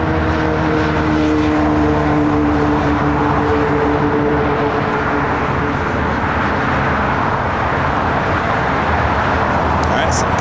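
A Sun Country airliner rolls down the runway for takeoff at LAX, its jet engines a loud, steady broadband roar with a low rumble and sustained tonal whine, heard from nearby and unbroken throughout.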